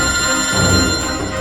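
A phone ringtone plays loudly and steadily as a sustained electronic tone over a low background hum.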